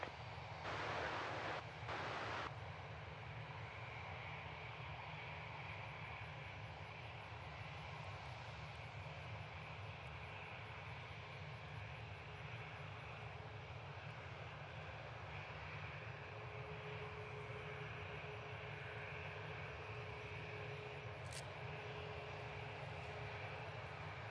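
Jet airliner arriving on runway 15 at Reagan National Airport, heard from a nearby park as a steady, loud engine roar that holds throughout without any talk.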